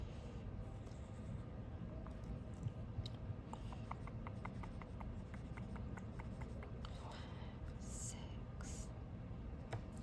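Pen sketching a fraction diagram on paper, soft continuous scratching and rubbing strokes up close and faint under a steady background hiss.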